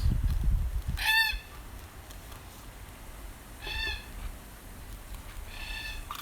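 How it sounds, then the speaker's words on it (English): Parrots give three short, harmonic calls spaced a few seconds apart over quiet background, with a low rumble at the very start. "Some of these parrots are very curious."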